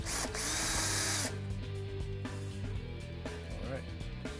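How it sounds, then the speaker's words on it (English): Power drill whining as it starts two holes in a stainless steel nerf bar bracket on an E-Z Go RXV golf cart, a loud high burst up front followed by shorter motor pulses, close by. "We're going to take our drill gun and just start 2 quick holes."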